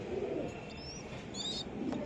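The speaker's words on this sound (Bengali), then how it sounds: "এই যে দেখেন কবুতরগুলা আমি একটু দেখাই" Pigeons in a Bangladeshi breeder's loft, with racer and Budapest birds among them, give soft low coos under a steady background hum, and a couple of brief higher chirps rise partway through.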